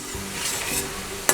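Garlic shev, a crisp gram-flour snack, frying in hot oil over a high gas flame: a steady, close sizzle and bubbling, with a brief sharper burst right at the end.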